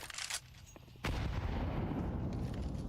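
A grenade detonates in a Counter-Strike esports match between BIG and Heroic at BLAST Spring Premier, a sudden heavy blast that sets off a loud, sustained rumbling roar after a short stretch of quieter game noise.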